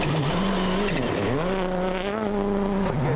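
A rally car engine revving hard on gravel at Rally Italy 2005, loud and close, pitch climbing and dropping with gear changes and tire noise underneath.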